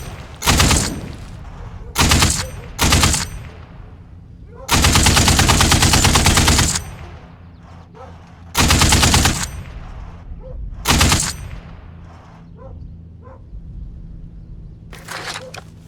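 Bursts of belt-fed machine gun fire in the Tank Crew combat game, several short strings and one longer sustained burst, loud and close, with quieter gaps between them.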